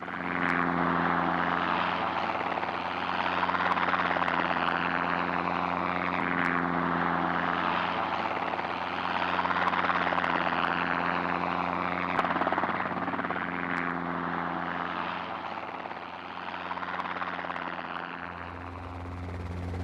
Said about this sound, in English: With the helicopters and the ringers moving the cattle to the yards